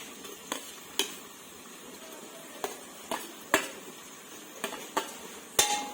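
Chopped tomatoes tossed into onions already frying in a pan, with a soft background sizzle broken by sharp, irregular clinks and scrapes of a spoon stirring against the pot, each knock distinct and fairly close.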